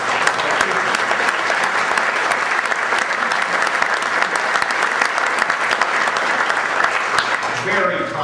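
Audience applause at a political event about a turnpike, a dense, steady crowd of clapping hands sustained for several seconds at close range before tapering off at the end.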